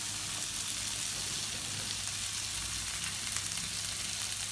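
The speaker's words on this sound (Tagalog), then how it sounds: "ilagay po natin ang hotdog para ma-prito na po yung ating hotdog" Hotdogs frying in a pan with onions and garlic, a continuous moderate sizzle heard close and steady, without speech.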